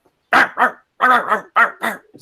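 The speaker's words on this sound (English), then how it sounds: "some barking off in the direction from whence you came" A dog gives six sharp barks in three quick pairs, clear and fairly loud, separated by short silences.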